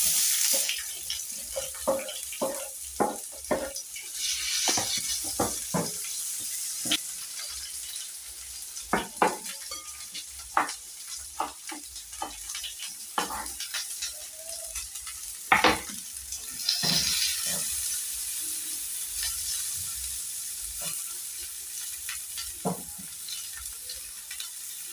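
Onions hit hot cooking oil in a pan, next to mashed potatoes. A steady hiss of sizzling continues with scattered clatters and scrapes from stirring, all close by throughout.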